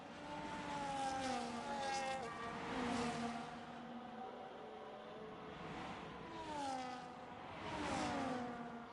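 Race cars in a league racing video game sweep past one after another, engine tones rising and falling in repeated swells with a steady whine between passes.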